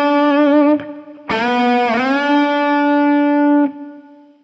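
Distorted electric guitar plays a short note, then a loud string bend held steady and released so fast the drop is barely audible, ringing alone with a bright, sustained tone before fading.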